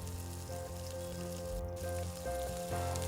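Cinnamon pieces, cardamom, cloves and other whole spices sizzling steadily in hot oil in a pan for potato kurma, a continuous close crackling hiss with faint stirring.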